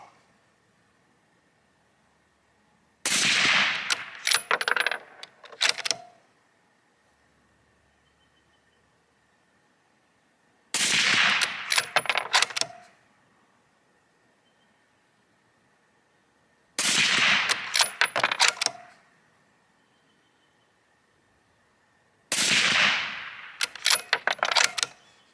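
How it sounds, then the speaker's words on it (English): Rifle fire over a chronograph at an outdoor range comes as four separate bursts of sharp, loud reports, each with a trailing rattle, spaced several seconds apart with quiet between them. "5 shots, here we go."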